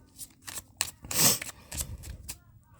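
A deck of tarot cards shuffled by hand, a series of short papery swishes and flicks with one longer, louder riffle in the middle.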